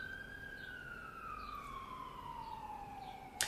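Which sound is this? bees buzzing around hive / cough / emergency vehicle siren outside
emergency vehicle siren outside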